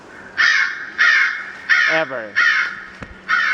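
A recording of crows cawing is played as a hawk deterrent by a chicken coop: five loud, harsh caws in a steady rhythm, with a brief voice cutting in between them.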